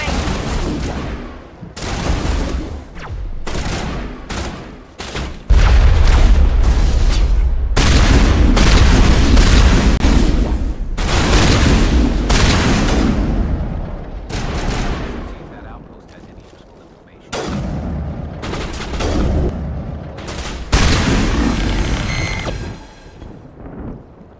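Gunfire and heavy explosions in a Mass Effect 1 battle: loud booming blasts and bursts of shots in irregular clusters throughout, with brief pauses between volleys and some voices over the combat.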